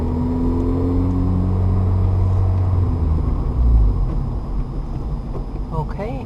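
A manual car's engine idles and rumbles at low revs as the car slows, with someone talking over the steady drone.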